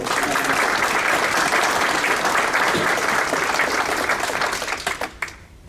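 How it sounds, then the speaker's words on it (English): A school-district awards evening crowd gives the superintendent sustained applause, loud and dense throughout, then tapering off near the end. "Let's give her a round of applause."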